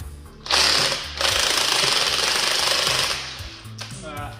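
Loud burst of a pneumatic impact gun removing the center bolts from a car strut mount, a short rattling run followed by a longer sustained hammering, then winding down.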